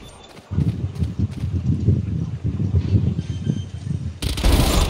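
Rapid gunfire in the tactical shooter Valorant, a dense run of loud, closely spaced shots across most of the stretch, with a sharp burst near the end.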